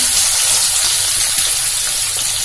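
Chopped onions, about one and a half, dropped into hot oil for a chicken curry, giving a loud, steady, close hiss of frying that runs unbroken throughout, with no talk.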